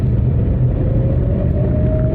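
Renault Kwid engine with a low-pickup fault held at full accelerator, a loud, steady, heavy drone with a faint rising whine and no talk, as if labouring under load.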